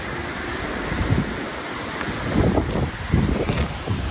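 Wind blowing outdoors on a hot, cloudy day in Rangpur, a rough, gusty rush buffeting the microphone in uneven surges, with no voices.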